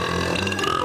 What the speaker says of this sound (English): he holds the world record for the loudest burp